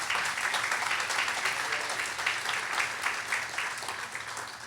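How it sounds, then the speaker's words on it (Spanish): A church congregation applauds steadily for several seconds, a dense, even wash of clapping that tapers off slightly at the end. "Denle un aplauso."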